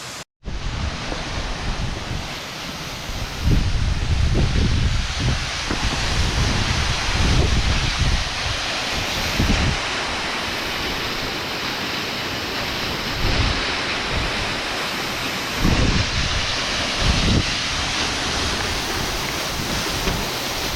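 A waterfall running strongly after heavy rain on a mountain hike gives a steady, full rush of falling water that holds through the whole stretch, with faint wind buffeting on the microphone and no voices.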